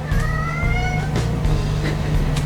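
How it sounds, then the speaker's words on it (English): A shop cat in a workshop gives one drawn-out meow up close, then falls quiet over a low steady hum in the room. "Shop Cat Henry. Always in here helping me out"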